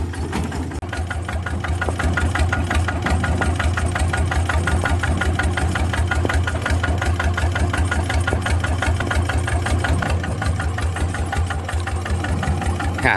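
A walk-behind tractor engine chugs steadily in a rice paddy, a close, even knocking rumble that keeps going without a break.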